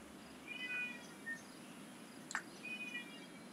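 A house cat meows outside, several short faint calls spread across the moment against a quiet background hum, with one sharper brief chirp in the middle.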